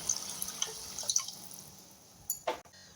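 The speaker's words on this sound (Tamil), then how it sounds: "இதில் அப்படியே மிக்ஸி ஜார் கழுவுன தண்ணியை சேர்த்துக்கலாம்." Water from a rinsed mixer jar drips and splashes into a pan of pea gravy, with a few light spatters followed by a sharper pour near the end; no talking.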